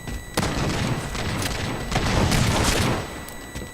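Gunfire in the Halo 4 video game: rapid bursts of shots with booming impacts, loud and dense for about three seconds before tapering, with no talking heard.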